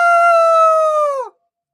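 A voice imitates a rooster crowing with one long, steady, high call that tapers off abruptly, loud and close with nothing else around it.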